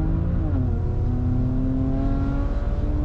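A turbocharged car engine fitted with 17T turbos pulls hard under acceleration, a steady loud drone with harmonics climbing in pitch, continuous and close throughout.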